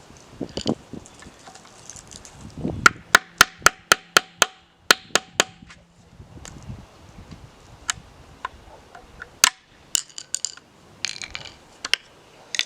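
Sharp metallic hammer strikes ring out in a quick run of repeated blows on a Nissan Titan Platinum Reserve wheel cover, mixed with scattered clanks and knocks of metal being worked on.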